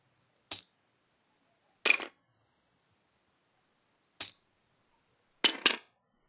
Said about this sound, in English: You can see Red's dice flying in the background around there.